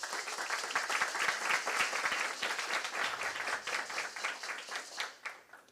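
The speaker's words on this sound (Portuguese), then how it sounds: "Queria também convidar e pedir uma salva de palmas para a Natália Farias." An audience at a course lecture applauds a speaker being introduced, a close, lively burst of many hands clapping that holds steady and then tapers off at the end.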